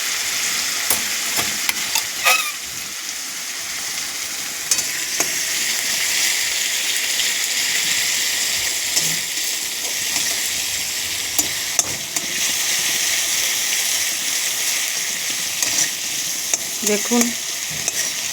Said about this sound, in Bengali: তারপরে একটু কষিয়ে নেব।